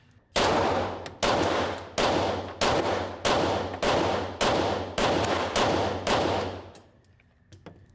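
Handgun shots at a shooting range, nine loud sharp reports fired at an even pace about every three quarters of a second, each with a short echoing tail, then quiet.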